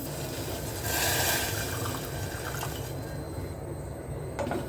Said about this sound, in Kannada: ಇದಕ್ಕೆ ನಾನು ಒಂದು ಮುಕ್ಕಾಲು ಕಪ್ಪಷ್ಟು ನೀರನ್ನ ಹಾಕ್ತಾ ಇದ್ದೀನಿ